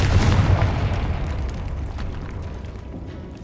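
A Confringo blasting spell explodes in Hogwarts Legacy, a loud, close boom whose rumbling roar slowly fades over a few seconds.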